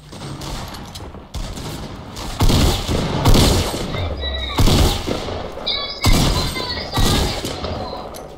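Video game gunfire erupts in repeated loud bursts of rapid shots and booming impacts, with brief pauses between volleys and no talking over it.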